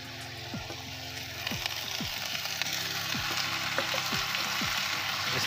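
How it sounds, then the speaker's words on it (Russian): Bigos stews in a pot on reduced heat with water added, a soft continuous sizzle and bubbling hiss with scattered light pops, steady and fairly close. "Оставляем дальше тушиться."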